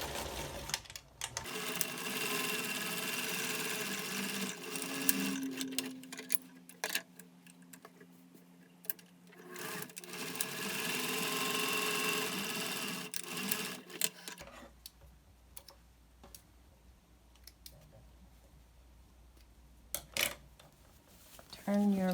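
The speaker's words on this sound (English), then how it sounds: "Then you will sew the top and the bottom of your mask with a 1/4 inch seam allowance." A sewing machine stitches a seam on a cloth face mask in several runs of whirring, rhythmic ticking, with pauses in between and a voice speaking quietly at times.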